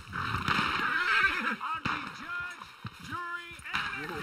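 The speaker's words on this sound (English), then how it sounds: "And there is my horse!" A dark bay Turkoman horse in the video game Red Dead Redemption 2 gives a loud, close whinny with wavering, rising and falling pitch. Someone talks around it.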